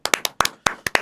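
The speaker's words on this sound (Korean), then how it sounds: "박수!" A few people clap in a quick, uneven burst of about nine sharp, close hand claps in roughly a second, with no talk over them.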